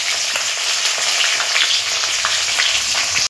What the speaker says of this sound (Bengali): তারপরে আমি কুচানো পেঁয়াজটা দিয়ে দিলাম, দিয়ে একটু ভাজবো।